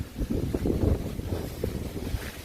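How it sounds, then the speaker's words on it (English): Gusty outdoor wind buffets the microphone along a woodland trail near a bridge, producing a low, rumbling, uneven roar that swells and fades with no talking. "Sorry about the wind again."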